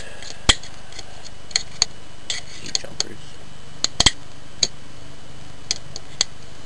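Small, sharp plastic and metal clicks and taps, irregular and close, as a Slot 1 computer motherboard is handled and flipped over on a workbench, with one louder knock partway through.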